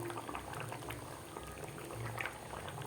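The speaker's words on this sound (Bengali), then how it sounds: "তরকারিটা দেখতেই পাচ্ছেন কত সুন্দর টকবক করে ফুটছে।" Curry with taro and bhetki fish bubbles steadily in a pot, a continuous close, soft burble of boiling liquid with small popping bursts and no talking.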